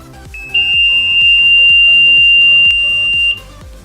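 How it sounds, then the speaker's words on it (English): A PIR motion sensor anti-theft buzzer alarm sounds a loud, continuous high-pitched tone for about three seconds, close by, with music playing underneath and no talking. "right now we are using buzzer, so whenever anybody crosses our perimeter, we can know"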